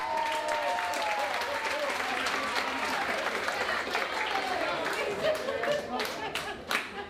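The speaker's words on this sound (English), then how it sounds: "round of applause for Mike Parenti." A comedy club audience claps and cheers in a sustained, dense burst of applause lasting several seconds, loud and close, with voices talking and calling out over it.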